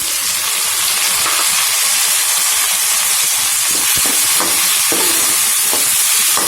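Onions and tomatoes frying in a pan for a Tamil okra curry, with a steady loud sizzle throughout and occasional scraping clicks from stirring.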